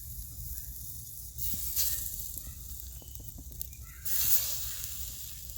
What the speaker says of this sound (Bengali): এইবারে বেগুনগুলো একে একে আমি কড়ার মধ্যে দিয়ে দেবো।